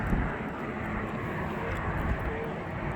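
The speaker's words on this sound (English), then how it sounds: "Private jet is faster than commercial." A private jet on landing approach to runway 24R at LAX, heard as a steady, broad engine roar filling the whole stretch at constant loudness, with faint voices murmuring underneath.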